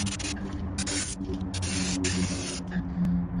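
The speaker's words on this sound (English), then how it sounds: "I'll use a bit of brake cleaner, get some of that dirt off." Brake cleaner sprayed onto a seized brake caliper of a VW Golf Mk5, heard as close, hissing aerosol bursts in several short and longer pulses with brief gaps.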